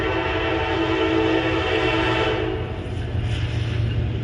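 Northbound intermodal freight train 264 rolls past on a quiet night, a loud sustained horn blast over the steady rumble of the passing cars.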